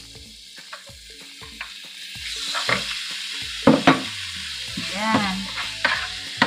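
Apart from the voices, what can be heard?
chicken and onion frying and being stirred in pan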